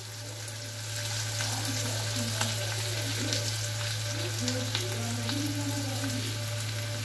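Boiled potatoes fry and get stirred in a hot wok for vada pav patties, a continuous close sizzle broken by scraping, stirring clatter and wet squelches, with a low steady hum beneath and no speech.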